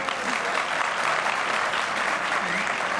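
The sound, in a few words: studio audience applause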